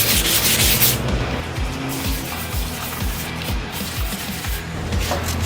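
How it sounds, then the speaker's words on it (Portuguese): A countertop is hand sanded with 220 grit wet-and-dry sandpaper in quick, rhythmic back-and-forth rasping strokes, loud and close, continuing without pause and with no talk. "vou passar uma lixinha de mão, seco e molhado, grão 220"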